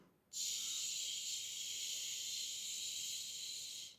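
A voice imitates the steady hiss of a household steam iron during ironing: one continuous, even hiss lasting about three and a half seconds, close and alone.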